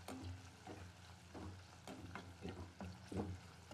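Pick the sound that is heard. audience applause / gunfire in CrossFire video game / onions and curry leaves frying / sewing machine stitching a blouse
onions and curry leaves frying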